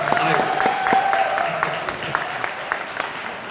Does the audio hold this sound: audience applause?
yes